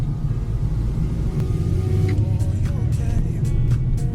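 An Audi A3 S-line accelerates through a town centre, a steady low engine rumble heard from inside the car with a few faint clicks and ticks over the top.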